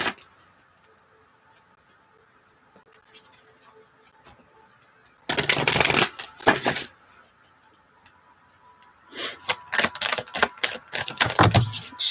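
Tarot cards being shuffled in a quiet room, two bursts of loud, crisp riffling flutters separated by a near-silent gap.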